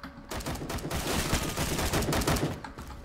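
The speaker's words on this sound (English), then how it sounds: "where's that firing coming from?" Dense, continuous gunfire from several weapons, including an AN-94 rifle, fills a Phantom Forces firefight, with overlapping rapid shots and bursts at loud, steady volume throughout.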